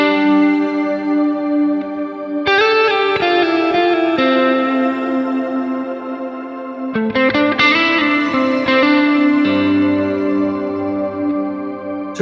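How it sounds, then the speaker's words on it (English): Electric guitar run through a fully wet shimmer reverb on a Quad Cortex, with chords ringing into a bright, washy, pitch-shifted tail that sustains continuously and swells again with each new strum, loud and alone. "So if you don't know a shimmer reverb, it sounds like this."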